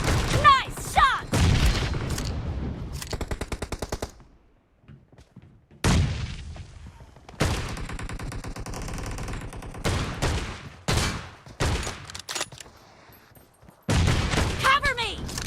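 Bursts of gunfire and heavy shotgun blasts from a PUBG Mobile team deathmatch come in loud clustered volleys separated by short lulls, with game voice lines and chatter mixed in.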